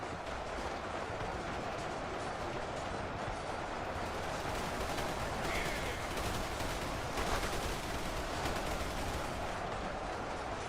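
Massed gunners keep up dense, continuous gunfire in a Warhammer 40K battle against a Chaos horde, a steady loud roar of overlapping shots with no clear gaps, alone without talk.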